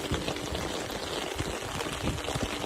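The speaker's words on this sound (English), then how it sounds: "Here comes the rain again." Rain falls close by onto an umbrella, making a dense, even patter with scattered sharper drops, loud and continuous with no talking.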